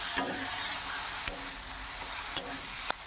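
Shrimp stir-fried with chilli powder and turmeric in a pan sizzles steadily and close, with a spoon scraping and stirring through the food about once a second.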